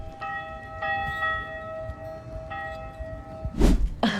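Church bells ring on a Sunday morning near an RV resort by the Smoky Mountains, sustained tolling tones that hum on at a distance, then a louder nearby clatter near the end.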